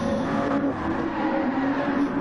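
Racing cars in Gran Turismo peeling into the pit lane at the GT World Invitational in Austria, a steady layered engine drone with a tonal whine holding throughout, loud and continuous with no talk over it.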